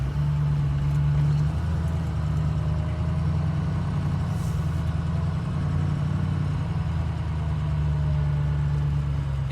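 A car rolls slowly through a campground at Fairy Stone State Park in Virginia, its engine a steady, close, low hum that holds constant with no voices over it.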